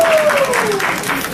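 A crowd applauds steadily and fairly close at a book launch, with a single high whistle sliding downward through the clapping.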